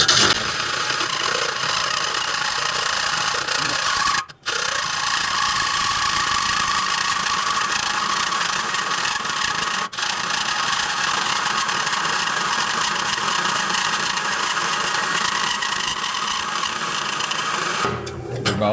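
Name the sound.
drill press running with hole saw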